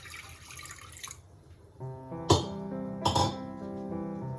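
Water is poured from a jug into a metal cooking pot, giving a couple of ringing splashes and clinks with a hollow resonant tone that lingers between pours.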